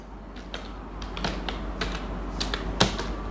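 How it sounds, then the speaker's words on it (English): Keys tapped on a computer keyboard while a name is entered into accounting software, a quiet run of irregular clicks with a few sharper strikes, close and alone. "So here I'm going to type the name of creditor."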